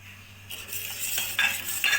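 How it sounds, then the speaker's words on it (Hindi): Boiling milk in a pot for gulab jamun is stirred with a metal spoon, giving soft scraping sweeps and a few bright metallic clinks against the pot. Close and fairly quiet, with a faint low hum and no talk. "इसको नॉन स्टॉप हिलाती रहें, बिल्कुल चम्मच को रोकना नहीं है आपने।"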